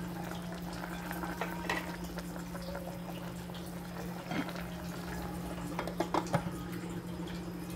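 Pork and jackfruit kadyos stew bubbles steadily in a pot, a soft continuous boil with scattered pops and small clinks near the end, heard up close and fairly quiet with no talking.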